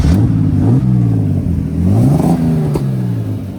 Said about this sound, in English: The car is running, but not running properly.